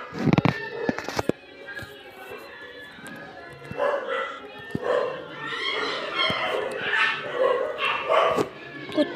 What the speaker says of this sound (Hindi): कुत्ते भौंक रहे बाहर।